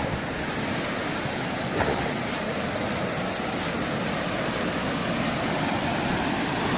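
The Nerchapara waterfall, a hidden cascade in Malappuram, pours steadily with a broad, even rushing hiss of falling water, constant and fairly soft, with no voices.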